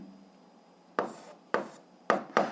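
A pen or marker scratches down an equation on a board or paper in four short, sharp strokes after a quiet pause, each crisp and close, with faint background hiss.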